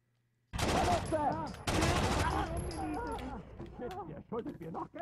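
Gunfire in the video game Rainbow Six Vegas 2 comes in sharp, loud bursts of rapid automatic shots, followed by scattered individual shots as the action continues.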